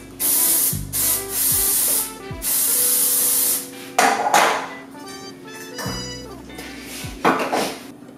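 Several bursts of cooking spray hiss into a round baking pan, each a second or so long, with light clatter of the pan between them.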